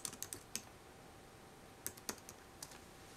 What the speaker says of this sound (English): Okay, so I'm gonna type in Russian keyboard layout.